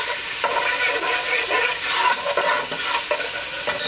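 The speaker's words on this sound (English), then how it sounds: "now oil is hot. I am adding the garlic paste first to cook a little bit" Garlic paste frying in hot oil for beef bone soup nehari, a loud, dense, continuous sizzle with bursts of crackle and scraping from stirring, heard close with no talking.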